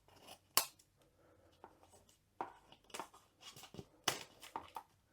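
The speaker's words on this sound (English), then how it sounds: "So we need to cut the cellophane." Scissors snip through the cellophane wrap on a craft kit box, giving a few sharp crisp cuts and crinkling rustles spaced irregularly, close and fairly quiet, with no talk.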